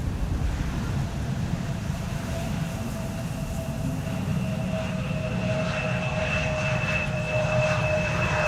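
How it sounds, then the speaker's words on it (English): Embraer 175 airliner from KLM landing at Amsterdam Schiphol in stormy, windy weather: a steady jet engine roar with whining tones, rising slightly as the aircraft passes, over constant wind rumble. "With an Embraer 175 arriving from Hamburg, KLM flight 1752, the first of the glide slope stack to land."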